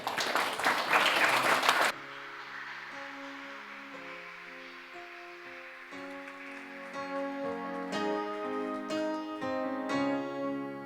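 Congregational applause at a church service opens loudly for about two seconds, then gives way to sustained keyboard or organ chords and soft worship music that continues to the end.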